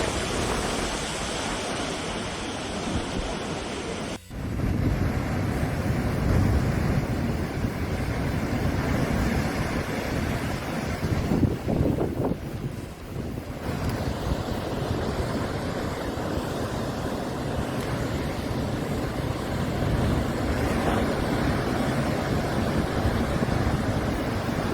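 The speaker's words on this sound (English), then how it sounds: "Boca do Inferno, a famous location in Portugal where you can witness the terrifying power of the ocean." Ocean waves pounding the rocky coast at Boca do Inferno, Portugal: a continuous heavy roar of surf and wind, loud and steady throughout, with a brief break near the start.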